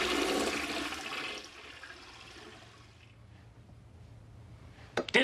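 A toilet flush roars close up for about a second and a half, then fades into a quiet gurgling drain, with a couple of sharp clicks at the very end.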